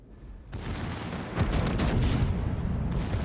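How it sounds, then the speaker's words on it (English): Battleship Ohio's secondary guns firing in World of Warships: a rolling series of booming gunfire blasts that thickens into a dense, continuous barrage, loud and near with no talking. "Ohio's secondaries are opening up against the Kurfürst"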